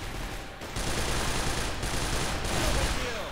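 Sustained automatic fire from an L85A1 rifle in the shooter game Crossfire, a dense, loud, continuous stream of shots with brief gaps, heard alone and up close.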